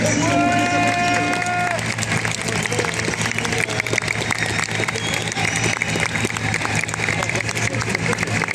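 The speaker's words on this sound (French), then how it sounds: "Merci, on peut les applaudir." Sustained audience applause and crowd noise after stage performances at a live event, dense and continuous, with some voices and cheering mixed in throughout.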